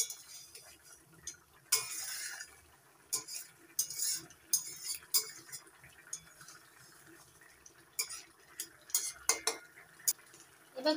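A spoon stirring egg curry in mustard-poppy paste in a pan, soft wet scrapes and clinks of metal against the pan coming in short irregular bursts, quiet and close, with no voices.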